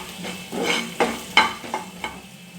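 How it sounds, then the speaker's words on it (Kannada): Garlic frying in a pan for Mangalore-style prawn curry, a low sizzle broken by several sharp scraping stirs of a spoon against the pan, close and loud. "ಈ ರೀತಿಯಾಗಿ ಫ್ರೈ ಮಾಡಿ."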